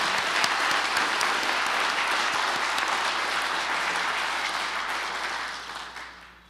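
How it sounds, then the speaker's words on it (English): Congregation applauding a church's new house band during a Sunday service, steady dense clapping from a full room that holds evenly and then fades out at the end. "How about another round of applause for that?"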